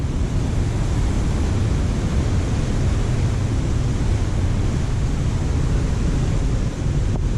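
River water rushes through a gorge on the Naugatuck River near Tingue Dam, a loud, steady broadband roar that holds without a break from start to finish, with no voices.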